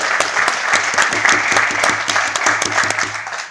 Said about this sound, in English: let's give a round of applause to both of them